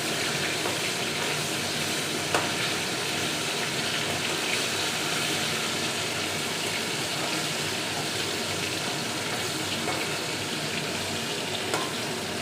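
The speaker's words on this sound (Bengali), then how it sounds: "মাছের মাথাটা আগে ভালো করে ভেজে নেব" Fish heads frying in oil in a wok make a loud, dense, continuous sizzle that stays close and even throughout, with no voices over it.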